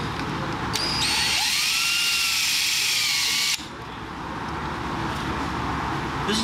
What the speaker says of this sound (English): let's go ahead and get drilling into that hole